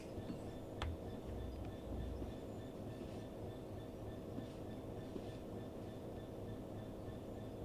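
A long Class 66 freight train on the Midland Main Line in the Train Sim video game rumbles along with a low steady drone and soft rhythmic wheel clatter, with no voices over it.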